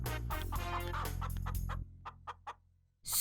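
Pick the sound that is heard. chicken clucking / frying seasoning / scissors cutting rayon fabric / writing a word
chicken clucking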